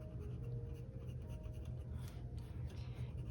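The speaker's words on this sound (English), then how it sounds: "I'm gonna write the word meals." A pen writes in a Hobonichi Cousin planner, producing soft, close scratching strokes over a steady low background hum, with no talking.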